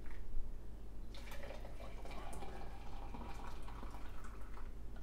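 Boiled kettle water poured into a plastic home brew beer container, a steady splashing fill with a continuous liquid rush and brief clinks, heard close and alone.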